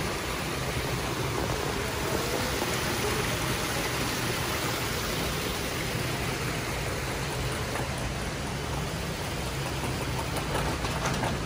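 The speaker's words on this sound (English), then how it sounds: "Look at the waterfall." An indoor waterfall inside a Cabela's store in Michigan makes a constant broadband rush of falling water, steady and fairly close, with no talk over it.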